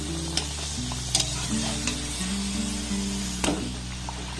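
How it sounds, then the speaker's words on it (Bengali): Snack dough of wheat flour and potato frying in hot oil over a low-to-medium gas flame, with a steady sizzle broken by a few scraping stirs of the spatula and a low hum underneath. "এবার এটাকে আমি একটু এইভাবে নাড়াচাড়া করে লাল লাল করে ভেজে নেবো"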